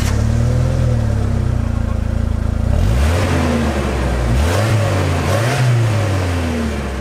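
A Jeep TJ's 2.5 liter four-cylinder engine drones loudly up close, then revs up and down in several rising and falling sweeps over a steady idle rumble.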